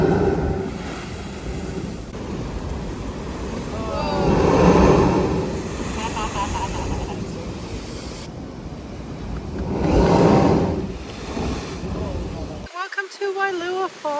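Ocean surf surges at a blowhole on Kauai, with two broad swells of rushing air and water noise building and fading over steady wind, recorded up close; a voice speaks near the end.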